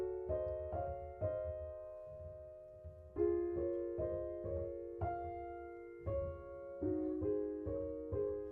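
Piano playing Debussy's Clair de Lune: a slow, gentle passage of soft sustained chords and melody notes, unhurried and ringing, heard alone with no talking.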